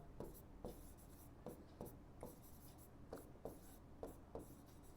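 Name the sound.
writing on a board during a maths lesson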